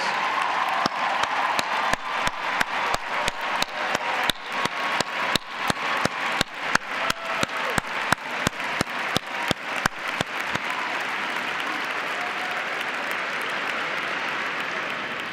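Education event audience applauds teachers, a broad wash of many hands that swells into rhythmic unison clapping, steady beats around two per second, then loosens back into scattered, sustained applause near the end.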